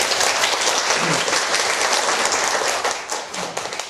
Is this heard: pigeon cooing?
no